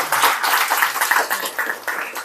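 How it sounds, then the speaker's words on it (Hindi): Enthusiastic applause from a crowd, a dense wash of clapping hands that holds steady for a couple of seconds. "उनके लिए आप लोग जोरदार तालियां हो जाएं"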